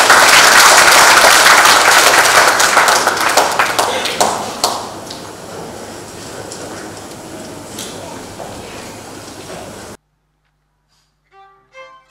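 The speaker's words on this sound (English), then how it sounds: "Please give them a round of applause." Audience applause after a music school performance at a trade show opening ceremony, a dense burst of clapping that thins and fades over about ten seconds, then silence with a few faint sounds.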